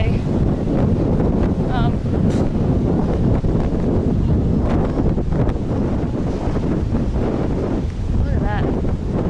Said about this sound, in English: It's been a windy day.